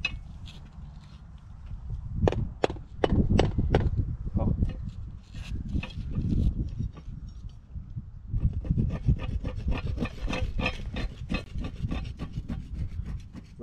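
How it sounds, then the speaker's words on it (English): Something being scratched to clear caked mud out of it, heard as close, rough rubbing and rasping strokes in irregular bursts, dense and scrapy, with a brief quieter pause midway before the scraping resumes. "Right here, I'm just like scratching it off to get all the mud out."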